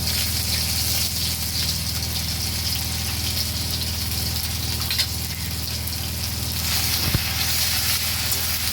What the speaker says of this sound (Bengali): আদাটা হালকা করে একটু ভেজে নেব